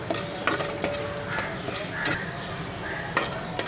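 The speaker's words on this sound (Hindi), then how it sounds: "तेल और घी गरम हो चुका है, इसमें मैं खड़े गरम मसाला ऐड करूँगी, इसको थोड़ा भून के लेना है" Whole garam masala spices fry in hot oil and ghee over low heat, giving a steady close sizzle with a few sharp crackles and stirring scrapes.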